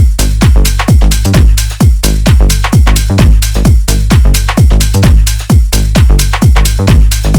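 A loud, driven synth bassline pulses in a fast repeating pattern of punchy, pitch-dropping notes with a roomy reverb tail.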